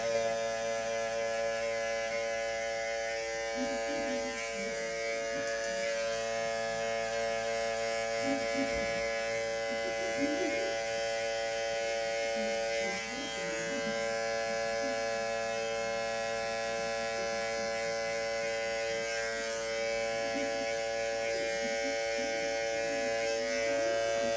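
Electric hair clipper with the guard lever fully open, buzzing steadily and close for the whole stretch with a constant high hum, no talk over it.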